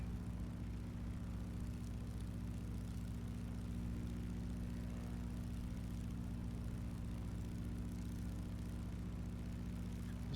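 Simulated DC Designs Stearman biplane engine idling in a flight simulator game, a steady low propeller drone with a thick rumbling hum that holds level and unbroken throughout, no voices over it.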